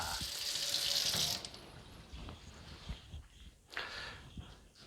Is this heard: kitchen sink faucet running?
yes